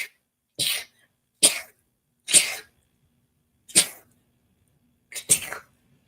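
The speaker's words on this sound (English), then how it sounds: "Hold on, I got to sneeze." A person sneezes five times in a row, each a sharp, close burst separated by about a second of silence.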